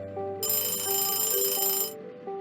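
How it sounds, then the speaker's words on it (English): A school bell rings in a steady, bright electronic tone for about a second and a half, fairly loud and close, with faint background sound around it and no talk. "that's the school bell"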